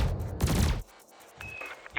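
Spaceship cannon and laser fire in Elite Dangerous, a short heavy burst of gunfire-like blasts followed by a quieter pause and a thin laser tone near the end.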